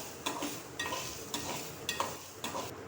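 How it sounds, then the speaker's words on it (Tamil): Chopped tomatoes sautéing in a pan for spicy potato masala, with a steady low sizzle and a few scraping stir strokes of a spoon against the pan, close and alone. "சேர்த்து நல்லா வதக்கி விட்டுக்கிறணும்."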